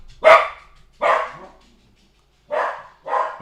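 A dog barks four times in separate loud, close bursts, two in quick succession, a pause, then two more, with no talking over it.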